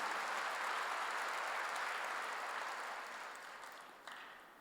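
A church congregation breaks into sustained applause, dense clapping from many hands that fills the room, then gradually thins and fades toward the end.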